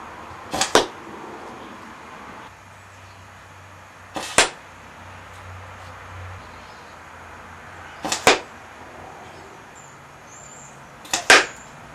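Four sharp, separate shots from a Cold Steel Big Bore blowgun firing bamboo darts, each a quick puff and smack spaced a few seconds apart over quiet outdoor background.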